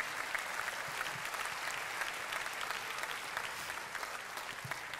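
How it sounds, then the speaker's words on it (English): A church congregation gives a sustained round of hand-clap praise at a morning service, dense even applause from many hands heard at a distance, with no talking over it. "let's give the Lord a hand clap of praise this morning"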